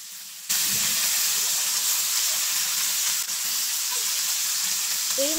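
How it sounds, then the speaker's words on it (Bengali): Fish sizzles in hot oil, a loud, steady close hiss that starts abruptly and continues throughout, with a faint squeak near the end. "তো এদিকে হচ্ছে মাছগুলো ভেজে নিচ্ছিল।"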